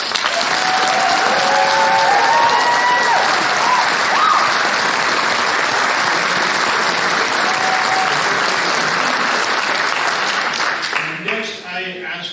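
Loud sustained applause from a graduation audience congratulating the graduates, with scattered cheers and whistles inside the clapping, which thins out near the end.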